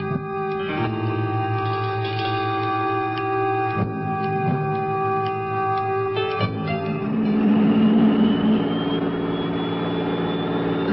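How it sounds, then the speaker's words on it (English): A jet engine developed from a Pratt & Whitney original, used as a sound effect in an old-time radio drama, rumbles steadily, then rises into a louder, whining roar near the end, with no voices over it. "That's the sound of an ordinary jet, developed from the Pratt Whitney original"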